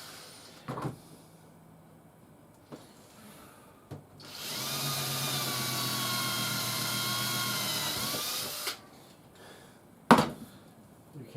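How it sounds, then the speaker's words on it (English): A power drill whirs steadily for about four seconds while drilling something out, with a few clicks and knocks before and after in an otherwise quiet space. "Let's just drill it out."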